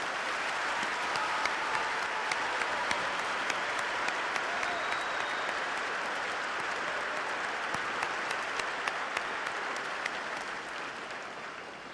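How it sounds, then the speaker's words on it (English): A graduation audience at a high school ceremony breaks into sustained, steady applause for families of protective service members, a dense field of clapping hands that tapers slightly at the end. "Let's give those people a round of applause."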